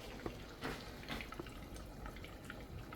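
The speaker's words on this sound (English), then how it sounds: "it's definitely moving water through the filter. And the fact that it's stuck on there, it has got the gurgling, but it's not a bad gurgling" An air-driven bio-mechanical water filter gurgles softly and steadily, with small irregular bubbling pops and drips close by at low volume.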